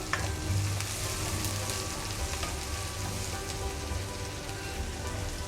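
Onions frying in hot oil in a pan for a ridged gourd curry, a steady dense sizzle and crackle running continuously and fairly close, with no talking over it.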